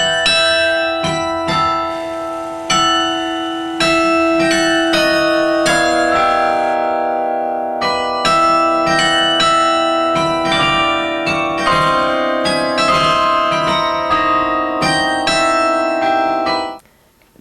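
Carillon bells ringing in the BYU bell tower, a steady melodic sequence of struck bell tones with long ringing overtones, loud and close, playing continuously alone for over fifteen seconds before fading.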